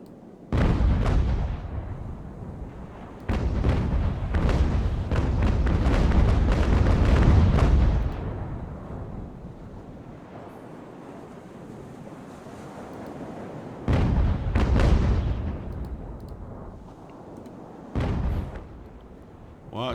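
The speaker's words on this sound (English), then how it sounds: "Let's switch over to grape shot now." In Ultimate Admiral: Age of Sail, sailing-ship cannons fire grape shot in booming, rumbling volleys: a long rolling barrage, then two shorter bursts, over a constant wash of wind and ocean surf.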